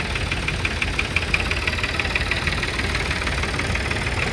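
A vintage Marshall tractor engine idles at a tractor gathering, a loud, close, steady low thumping chug that runs without pause and has no talk over it.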